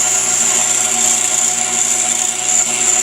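A pedestal grinder running steadily while grinding a lathe tool, a continuous loud high whine with a humming motor underneath, close and unbroken with no talk.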